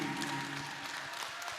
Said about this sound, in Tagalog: Palakpakan natin ang Panginoon. Yung palakpak ng mga mananagumpay.